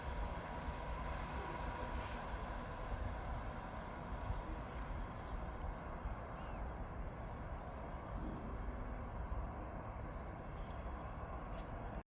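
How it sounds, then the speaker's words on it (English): A Scotrail train arriving at Edinburgh Gateway station, a steady continuous rumble of wheels and engine that stays loud and even throughout, with no voices over it. "Arriving in now is the 12:08 Scotrail service from Edinburgh Waverley to Dundee"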